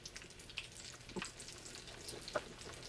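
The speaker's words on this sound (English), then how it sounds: "when you're adding things to a pan that's frying" Gentle, steady sizzling of eggplant frying in hot oil, with a few soft clinks and stirring sounds scattered throughout.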